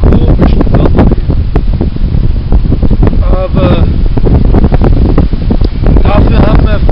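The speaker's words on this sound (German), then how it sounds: "Da ist immer ein kalter Wind." Cold wind near the Baltic Sea buffets the microphone in loud, rough gusts while a person talks close by.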